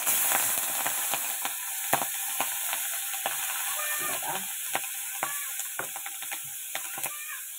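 Green chilies fry in a pan with a soft, steady sizzle, broken by frequent sharp clicks and scrapes from stirring, close and fairly quiet.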